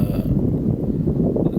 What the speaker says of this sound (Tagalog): para marinig nyo kung gaano kalakas ang hangin